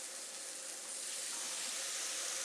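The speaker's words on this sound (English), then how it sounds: "You can hear that sizzle, and it smells good already" Food sizzling on a George Foreman electric grill, a steady, dense hiss that holds evenly throughout without pauses, fairly close and moderately loud.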